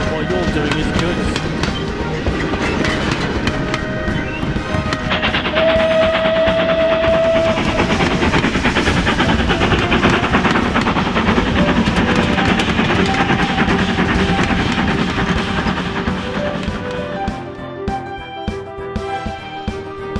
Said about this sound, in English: Toby had just arrived at Knapford with a stone train